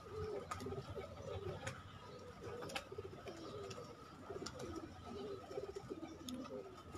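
Pet pigeons on a sunny home rooftop, some feeding and many young among them, coo in soft, repeated rolling phrases nearby, overlapping throughout with a few faint clicks and rustles.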